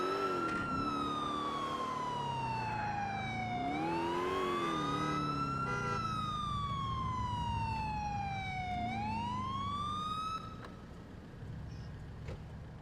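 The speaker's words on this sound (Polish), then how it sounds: "Może włączę syreny" A police siren in the video game GTA IV wails loud and close, sweeping steadily up and down in long cycles over engine noise before dropping in level near the end.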